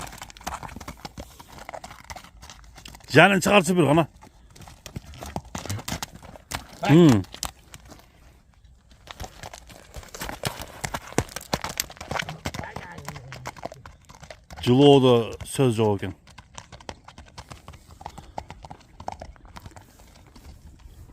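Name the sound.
horse hooves clip-clopping as rider gallops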